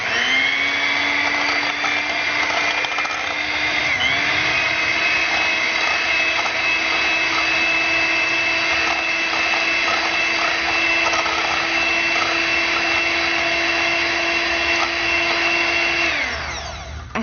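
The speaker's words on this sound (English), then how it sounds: "I use my hand beater and just kind of gently roll that in together" An electric hand beater whirs steadily, mixing powdered sugar for stuffed strawberries; a loud, continuous motor whine holds at one pitch with a brief dip, then spins down at the end, no voices.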